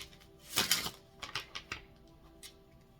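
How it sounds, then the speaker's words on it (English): A tarot card deck given a hard shuffle, with a few quick crisp riffling bursts close by, the loudest near the start followed by shorter clicks and flutters. "I'm going to get into a hard shuffle here with this last deck"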